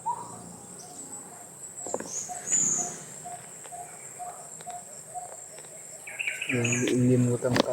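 Birds call repeatedly outdoors in a steady, evenly spaced chirping pattern over background noise, with a few clicks and a voice rising near the end.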